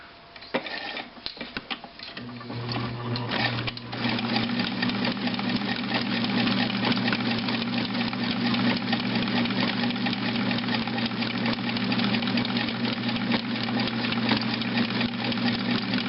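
Kenmore 120.491 sewing machine stitching a zigzag, starting with a few uneven clicks before settling into a steady fast mechanical whir and tick, close and continuous, with no talk.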